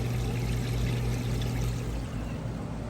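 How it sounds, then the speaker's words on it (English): Steady rushing water pours and drains continuously from a Maytag Bravos washing machine, with a low mechanical hum underneath; no talking. "it is now draining the water out. You can hear it draining nice and fast there."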